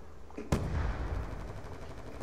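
A single sharp gunshot from an online Black Ops II match cracks out loud and close, trailing into a long rumbling echo with faint background noise.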